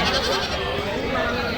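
Goats bleat amid the bustle of a livestock market, brief calls layered over people talking nearby.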